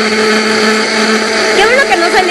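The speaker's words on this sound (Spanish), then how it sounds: "Y entonces vamos a poner a licuar esto." A blender whirs loudly and steadily, blending a peach drink mixture, its close motor drone running throughout while a voice talks over it near the end.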